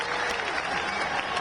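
Crowd applause at a devotional gathering on stage with Bageshwar Baba, a dense steady wash of clapping that holds at even loudness throughout, with a few voices faintly mixed in.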